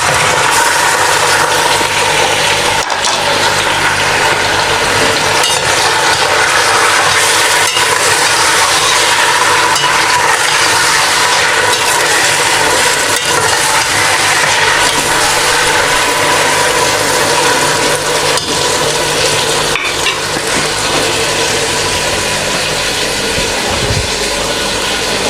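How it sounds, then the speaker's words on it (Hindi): Beef fries in hot oil in a pot for haleem, a loud, steady, dense sizzle that holds without pause for the whole stretch. "इसी ऑयल में अब हम ये गोश्त डाल के इसको फ्राई करते हैं।"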